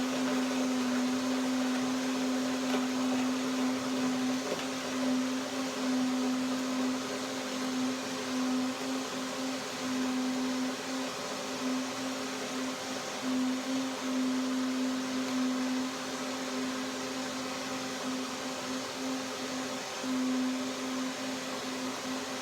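A blender runs steadily, whirring a hemp, Brazil nut and cacao drink for a sustained stretch, with a constant motor hum holding an even level throughout and no voices.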